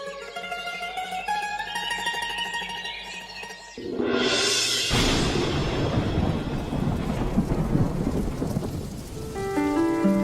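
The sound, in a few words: rain and thunderstorm in a cartoon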